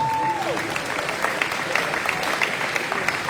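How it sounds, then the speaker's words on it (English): Audience applause at a high school athletic banquet for a coach, a steady wash of many hands clapping across the room with a few voices faintly mixed in. "so give him a big round of applause"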